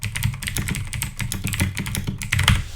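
Rapid typing on a computer keyboard, with steady clustered key clicks that stay close and clear and run continuously with no voices.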